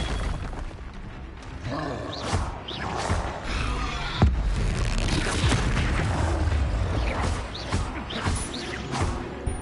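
Fiery spell blasts from the Confringo fire curse in Hogwarts Legacy, a dense run of booming, crackling bursts with one sharp crack partway through, loud and continuous over roaring game noise.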